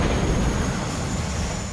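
A propeller plane's engine in the video game Just Cause 3 gives a steady, loud broadband drone with a deep rumble and a faint high whine, constant throughout with no voices.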